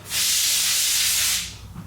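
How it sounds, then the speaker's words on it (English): Oil sprays out in a loud, steady hiss for over a second as a Yamaha YZ motorcycle fork is pushed down to bleed it during fork seal service, then it tapers off sharply. "you want to push this down all the way, see that spray out?"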